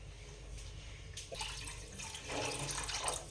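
Water is poured into a pot for chicken majboos rice, a soft close splashing stream that grows fuller and louder toward the end.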